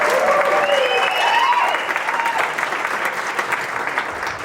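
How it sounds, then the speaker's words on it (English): Audience clapping at a board of directors installation, steady dense applause from a crowd with a few faint voices mixed in. "So clap for Terry Moore"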